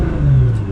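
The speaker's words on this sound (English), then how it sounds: "So real quick, here's a rev in comfort mode," A Nissan GT-R R35 with an Armytrix exhaust in comfort mode with valves closed gives one brief, loud, muffled rev, a deep steady drone that swells and eases off close by.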